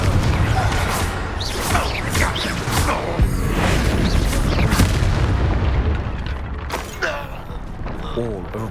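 A Confringo fire spell bursts with loud booming explosions in Hogwarts Legacy combat, several crashing blasts in a dense, continuous battle din, with voices calling out over the clash.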